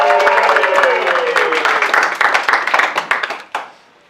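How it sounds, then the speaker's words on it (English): Wedding guests cheer and applaud for the maid of honor, loud sustained clapping from a crowd with whoops and voices mixed in, fading to a few scattered claps at the end. "Big cheer for Courtney."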